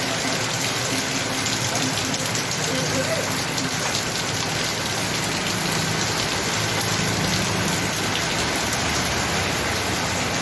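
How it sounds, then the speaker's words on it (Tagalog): Heavy rain pours steadily throughout on Missiano Road in Dumaguete, a dense continuous hiss of water striking surfaces, loud and close, with no pauses. "Kusog kayong ulan mga kaigsunan."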